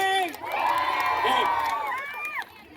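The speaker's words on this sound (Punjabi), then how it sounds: "ਇੱਕ ਵਾਰ ਸ਼ਾਹੀ ਹਵੇਲੀ ਵਾਸਤੇ ਜ਼ਬਰਦਸਤ ਕਲੈਪਿੰਗ ਔਰ ਹੂਟਿੰਗ ਕਰ ਦਿਓ" At a Teej fair in Faridkot, Punjab, a crowd cheers and hoots loudly and continuously. Voices overlap in whoops and shouts throughout, tapering near the end.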